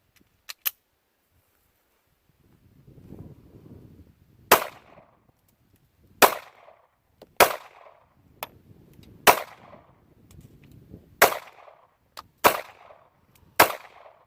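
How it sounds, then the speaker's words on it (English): Taurus Spectrum pistol fired at an outdoor range, about eight sharp, loud cracks spaced a second or two apart, each ringing briefly, with quiet rustling between shots. "she's never shot the gun"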